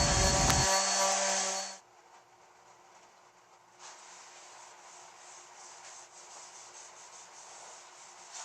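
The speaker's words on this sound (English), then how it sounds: "And then we'll sand it down to 120 and get it ready for stain." Wood being sanded down to 120 grit with a power sander, a loud harsh whir at the start that cuts off abruptly, followed by a quieter steady rubbing hiss continuing alone.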